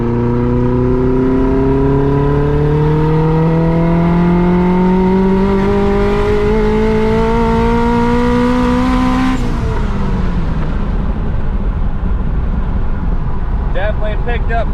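A turbocharged, built Honda H22 engine in a third-generation Prelude revs out on a street-tuning pull, its tone climbing steadily for about nine seconds before cutting off abruptly, followed by lower settling engine noise and faint chirps.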